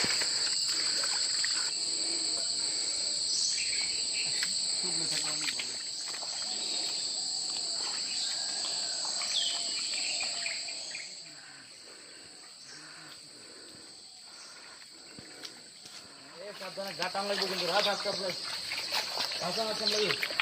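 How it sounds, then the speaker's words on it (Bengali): A constant high-pitched drone of crickets fills the air on a forest path on Char Kukri Mukri, Bangladesh, with birdcalls around and voices talking underneath at moderate level and quieting partway through. "আর সাউন্ডটা হচ্ছে একদম ন্যাচারাল পাখির ডাক চারদিকে ঝিঝিপোকা ডাকতেছে"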